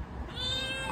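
A village cat gives a single short, close meow.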